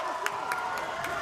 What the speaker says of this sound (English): the crowd is absolutely loving it.